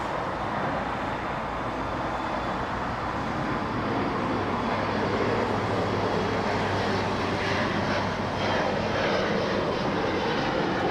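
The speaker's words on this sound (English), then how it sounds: "Little E-175 on the screen. This one flying to Vegas" An Embraer E-175 jet airliner departs LAX for Las Vegas, its engines a steady, loud broadband roar that holds throughout, with faint traffic rumble beneath.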